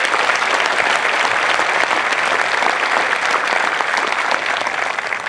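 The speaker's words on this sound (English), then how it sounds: "Round of applause for our fantastic MTIs" A crowd at an Air Force basic training graduation parade applauds loudly and steadily, dense clapping sustained throughout with no pause, tapering slightly at the end.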